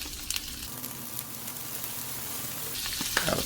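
Asparagus sizzles in a hot pan, a steady close frying hiss running throughout, with a few light clicks and a brief stir near the end.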